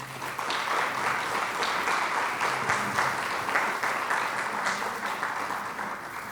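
Warm applause from a seated audience at a university ceremony honouring Tommy Muñiz, a continuous, even patter of many hands clapping at moderate loudness with no talking.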